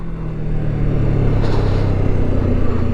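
A 2024 Kawasaki Ninja 7 Hybrid motorcycle runs steadily while shifting, giving a loud, close, continuous low engine drone with a gentle rise in pitch and no talk over it.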